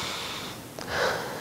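A person exhales audibly through the nose and mouth during a stretching exercise, a short snort-like breath followed by a soft rushing outbreath, close and alone.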